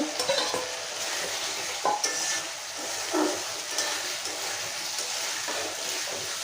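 Prawns hitting a pan of hot, oil-rich spice paste for a raw jackfruit curry, giving a steady close broadband sizzle with occasional stirring scrapes and small spits throughout.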